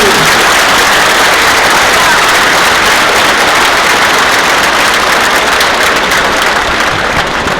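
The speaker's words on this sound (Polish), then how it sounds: "brawa dla wszystkich" Loud, dense applause fills a football fans' rally supporting a new stadium, a steady wash of clapping from a big crowd that never lets up.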